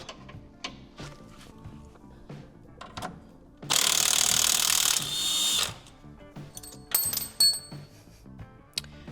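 A lock nut on a 1978 Corvette is backed off with a power tool, giving a loud whirring burst of about two seconds set among scattered metallic clinks, taps and clanks.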